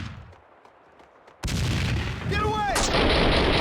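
Gunfire in the video game Max Payne 2 begins after a quiet stretch with a sudden loud, dense burst of shots that keeps roaring to the end, while a voice shouts briefly.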